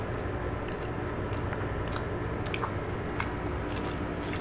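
Crunchy Filipino lumpia is bitten and chewed close to the mic, giving a dense stream of crackly crunches and moist chewing over a steady background murmur.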